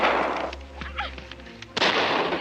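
Pistol shots in a 1952 war film: a loud blast at the start and another near the end, with quieter clatter and faint sounds between them.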